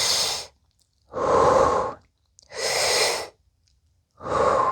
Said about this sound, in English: Now when you breathe,